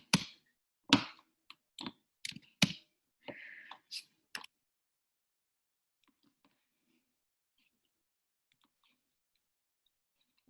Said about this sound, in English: Let me go ahead and just type a value instead.